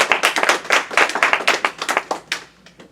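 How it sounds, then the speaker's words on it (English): Studio audience claps for Mike, an interview guest, with a burst of distinct, fairly close hand claps that thins and tapers off over a few seconds. "So let's give Mike a round of applause."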